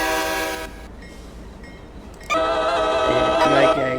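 A CSX freight train led by an ex-Conrail SD40 locomotive sounds its horn close by, one short blast followed by a quieter stretch and then a long, loud sustained horn over the passing train.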